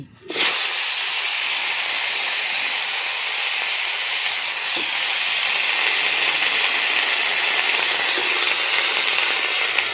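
Cauliflower, eggplant, tomato and potato hitting a little hot oil in a pan, a loud, even hiss that starts abruptly and holds steady throughout.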